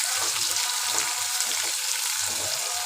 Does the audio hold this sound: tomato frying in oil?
yes